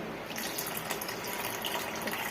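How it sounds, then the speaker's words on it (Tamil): Ice water pours steadily into milk cream in a home kitchen while making ghee, a continuous close splashing and gurgling stream with no pauses. "இப்போ இதில் ஐஸ் வாட்டர் நான் ஊற்றுறேன்"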